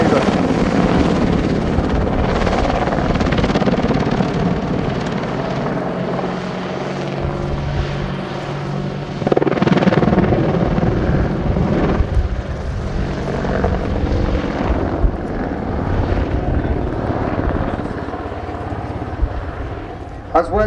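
An Army Air Corps WAH-64D Apache Longbow helicopter flies a display, its rotor thudding and engine roaring loudly, swelling and fading as it maneuvers, with a commentator talking over it.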